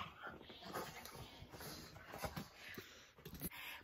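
Pugs make close, continuous growling and snorting noises mixed with whimpering yips, with a little talk alongside.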